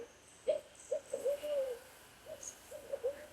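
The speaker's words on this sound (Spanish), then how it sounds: "la paloma, a ver si podemos escuchar cómo canta" A dove calling, several soft, low cooing notes in short phrases, fairly close against a faint outdoor background.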